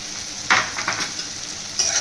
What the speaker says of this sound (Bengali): দিয়ে চিংড়ি মাছ আর পেঁয়াজের সঙ্গে ভালো করে ভাজতে থাকবে